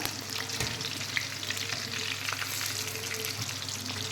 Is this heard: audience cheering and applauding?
no